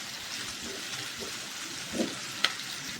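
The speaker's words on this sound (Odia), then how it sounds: "ପିଆଜ ଆମର ଭାଜି ହେଇଗଲାଣି" Onions with salt frying in a pan for eggplant bharta, a soft steady sizzle with a couple of brief stirring clatters, close and fairly quiet, with no talking.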